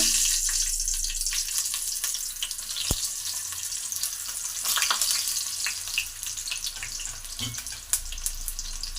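Cut brinjal pieces, previously soaked in water, hiss and sizzle as they go into hot oil in a pan, a steady bright frying crackle with a few louder pops and spatters.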